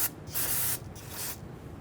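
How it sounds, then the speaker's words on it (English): Solvent sprays onto a brake line fitting on a 2007-2014 Cadillac Escalade in two or three short, close hissing bursts from an aerosol can, with nothing else heard. "we could spray that down with some solvent"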